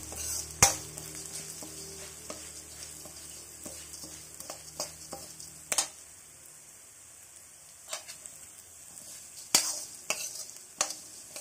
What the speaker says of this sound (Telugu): ధనియాలు, జీలకర్ర కూడా బాగా వేపుకోవాలి.